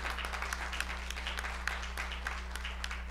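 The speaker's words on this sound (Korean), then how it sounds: "오늘 반주를 맡아주실 권경아 선생님, 큰 박수로 맞아주세요." An audience at a university presidents' summit gives a warm round of steady clapping to welcome the accompanist, heard over a constant low electrical hum from the hall's sound system.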